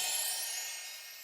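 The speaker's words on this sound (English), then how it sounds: "The next effect sound is a bell hit." A bell hit sound effect in a synthy trap beat rings out bright and shimmering, then fades away smoothly over about a second, heard alone and fairly soft.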